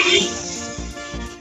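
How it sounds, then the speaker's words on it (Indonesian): A person coughs a couple of times in quick succession, close and fairly loud, with a throaty, rough quality. "Saya jadi batuk nih."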